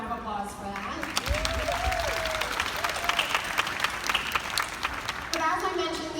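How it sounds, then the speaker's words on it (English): Clapping from a group rises behind the scenes at a Disney On Ice Dare to Dream show, sitting under voices and brief tonal sounds, moderately loud and scattered. "You deserve a round of applause for that."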